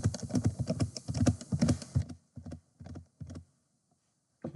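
Close, quiet computer keyboard typing of MIPS assembly code, first a rapid run of clicking keystrokes, then a few slower isolated taps separated by pauses.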